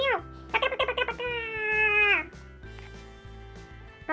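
A voice imitates a cat, giving a string of high, pitched meows in quick bursts followed by a long drawn-out mew, loud and close, with a steady low hum underneath.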